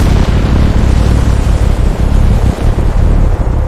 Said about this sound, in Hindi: अचानक झील के अंदर एक धमाका हुआ